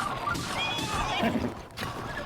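A horse neighs in a short, strained whinny in the Zelda: Breath of the Wild video game, set against busy game noise and scuffling, with no clear voices over it.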